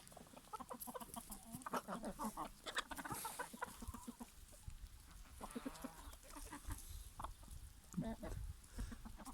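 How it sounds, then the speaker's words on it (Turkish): Several chickens cluck and murmur close by while feeding, in a steady, busy chorus, with soft pecking and scratching under the calls. "Tavukların durumu bu. Hala yiyorlar."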